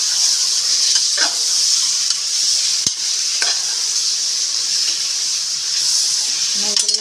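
Mutton pieces sauté with biryani masala, turmeric and salt in a pan, a steady close sizzle that runs throughout with a few scraping stirs and clinks and no talk.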